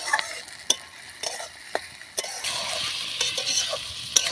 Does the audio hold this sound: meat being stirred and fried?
yes